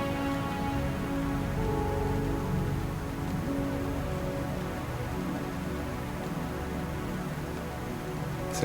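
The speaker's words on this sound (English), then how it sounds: "You can hear like sirens and things going on in the background, like the rain." Steady rain falls in the background of the 1997 video game Blade Runner, a continuous soft hiss layered under a low ambient drone and faint tonal hum, with no speech.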